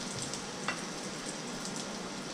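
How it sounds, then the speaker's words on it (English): Breaded chicken breasts sear in a hot pan with a steady, close sizzle, a dense crackling hiss with faint pops and no talk over it. "As we put them in, we'll see that start to sear a little bit. Make a good little sizzle."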